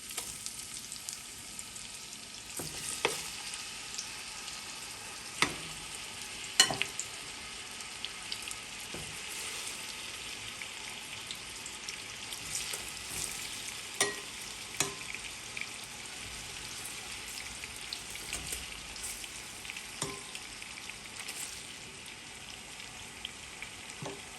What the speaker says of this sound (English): now that my oil has come up to a nice hot temperature and my butter is melted, you're going to add in the fish